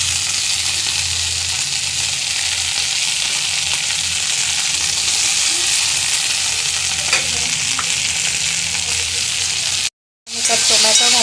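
Loud, steady sizzling of frying in a pan for a Nagpur-style methi besan dish, with finely chopped fenugreek being added and stirred; continuous hiss close by, briefly cut near the end.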